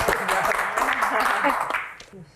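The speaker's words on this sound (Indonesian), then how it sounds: "Silakan dokter, tepuk tangan dong" Studio audience at an Indonesian comedy Q&A show applauds as guests step forward, a dense wash of many hands clapping that fades toward the end, with voices mixed in.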